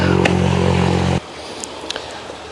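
A motorcycle roars past close by in a pond-side setting in the Carpathians, its loud engine droning for about a second before cutting off sharply, followed by quieter outdoor ambience with brief faint clicks.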